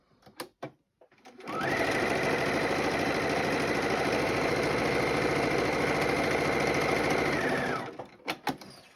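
A sewing machine stitches quilt pieces for a Jacob's Ladder charm-square block, running in one steady, loud, continuous burst of about six seconds. A few soft handling clicks come before and after the run.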